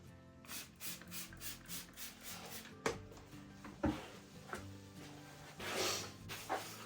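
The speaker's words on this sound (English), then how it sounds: "So my favourite thing to use are good old sanding blocks because they're nice and robust." Rhythmic rubbing strokes of a sanding block on acoustic guitar wood, steady back-and-forth scrapes with a few sharper knocks, close and fairly quiet.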